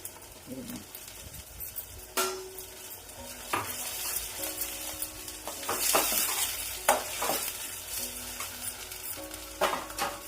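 Crab curry sizzling in a pan as tomato puree goes in, with a continuous hiss broken by repeated stirring scrapes and clinks of a utensil against the pan, close up and fairly busy throughout.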